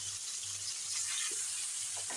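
Pieces of rui fish frying in hot oil in a pan, a steady soft sizzle throughout with faint low hum beneath, no talking.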